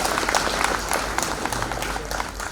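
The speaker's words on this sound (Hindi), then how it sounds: "जोरदार तालियां इस मौके के लिए।" Loud, sustained applause from a large crowd at an outdoor ceremony honouring martyrs, dense clapping that holds steady throughout with no break.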